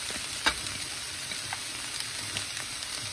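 Bell pepper and onion fry in a pan with a steady, even sizzle and hiss, broken by a few small crackles and pops close by, with no talking over it.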